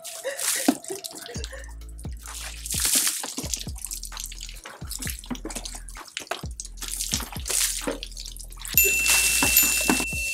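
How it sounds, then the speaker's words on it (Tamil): Water drips and splashes off a person's head during an ice bath challenge, a run of close, irregular drops and trickles with louder bursts of pouring and splashing, no talk. "இங்க பாருங்க தண்ணி எல்லாம் இருக்கு தலையில, நான் ஊத்திருக்கேன்."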